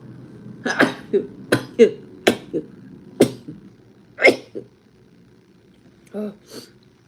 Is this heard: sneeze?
yes